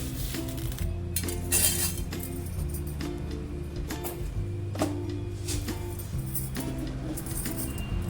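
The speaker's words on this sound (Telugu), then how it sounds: "ప్యాన్ పెట్టుకుని హీట్ ఎక్కాక స్పూన్తో 2 స్పూన్లు మెంతులు వేసుకోవాలి." A spoon taps and clinks against a hot pan as fenugreek seeds go in for a tomato chutney. The metallic clinks come close and repeat irregularly over a steady low background.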